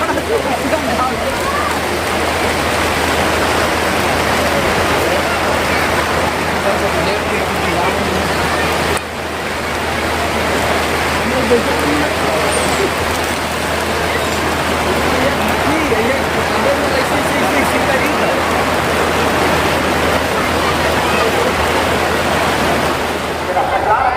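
Water gushes at full flow across a crowded pandal during a religious gathering, a steady broadband spray roaring without pause throughout.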